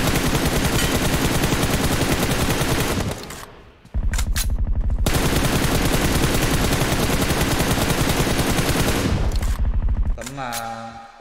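Loud, sustained automatic gunfire from PUBG Mobile, with dense bursts filling almost the whole stretch, a brief lull near the middle and another at the end, and faint talk underneath.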